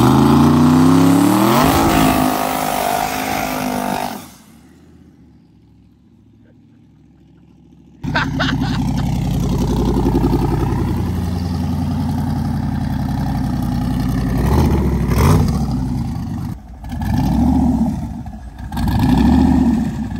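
Twin turbo Lamborghini and twin turbo Camaro engines rev loudly up close in rising, aggressive pulls, then cut to near silence for a few seconds before deep revving and throttle blips resume, with occasional voices in between.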